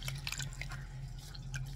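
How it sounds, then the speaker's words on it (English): Wet mulberry paper is squeezed by hand over a bowl of water, giving soft close squishing and trickling drips, faint and quiet, with no voices. "This is the bowl of water. Dip it in there. Squeeze it out."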